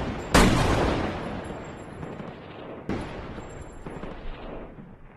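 A sniper's gunshot rings out in a film scene, a sharp crack followed by a long decaying echo, then a second, softer shot some seconds later.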